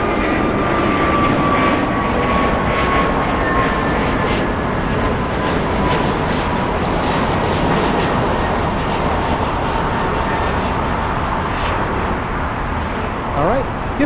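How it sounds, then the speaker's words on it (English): A Delta Airbus A350 powering up on the runway at Los Angeles International Airport builds a loud, continuous jet roar with a thin whining tone that slides downward, holding strong throughout, with no talk over it. "the Delta A350 finally on the runway. This one powering up"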